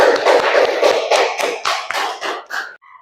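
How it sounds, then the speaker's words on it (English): Classroom applause for students in a grade 8 lesson, a short burst of a few hands clapping in a fairly quick, uneven rhythm, close and fairly loud, tapering off after about three seconds. "Please give applause."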